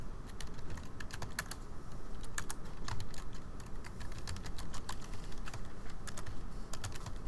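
Code being typed on a computer keyboard, with rapid bursts of light, crisp key clicks, irregular in rhythm and close, continuing steadily over a low background hiss.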